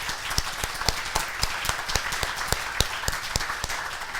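A small audience claps at the close of a session of lightning talks, a quick run of sharp, fairly faint hand claps with a light crowd murmur underneath.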